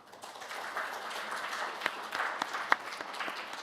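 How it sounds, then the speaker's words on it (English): A conference audience at a session of the NDB Annual Meeting in Moscow gives the speakers a modest, fairly quiet round of applause, with a few sharper claps close by. "call for a round of applause for our esteemed speakers"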